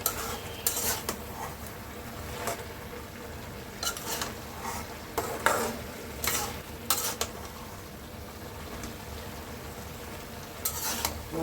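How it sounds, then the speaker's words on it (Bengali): Pumpkin greens frying in a pan are stirred and tossed, giving a low steady sizzle broken by several sharp scraping and clattering strokes of the spatula against the metal pan, spaced irregularly across the stretch, with no talking. "এখন আমি এটাকে নাড়াবো"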